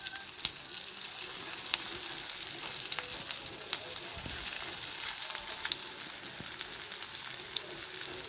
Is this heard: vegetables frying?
yes